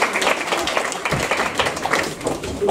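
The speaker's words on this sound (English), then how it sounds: "Right, give Harry a round of applause, come on." Theatre audience clapping during a Dick Whittington pantomime at Sutton Arts Theatre, a full, lively burst of many hands with uneven swells, fairly loud and continuous.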